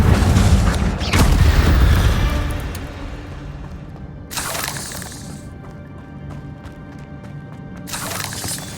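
An Incendio fire spell in Hogwarts Legacy bursts with a loud booming whoosh at the start, then trails into rumbling debris with a couple of later bright flaring bursts, no voices.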